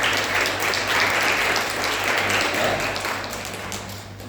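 Steady applause from a church congregation during a Sunday worship service, many hands clapping together at a sustained level for several seconds before tapering slightly, with no talk over it.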